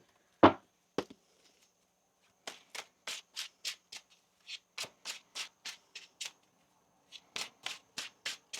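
A deck of tarot cards is shuffled by hand: one sharp tap and a knock, then two runs of quick, crisp riffling bursts, close and clear against near silence.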